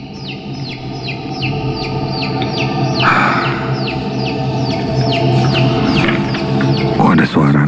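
Baby chicks peep in rapid, repeated high chirps at night from an alley behind a boarding house, continuous and fairly loud, with a voice talking over them.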